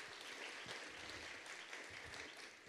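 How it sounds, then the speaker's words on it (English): Quiet audience applause at an evening conversation event on Jefferson and Douglass, a faint, even patter of clapping heard alone. "Give Allison a great big round of applause."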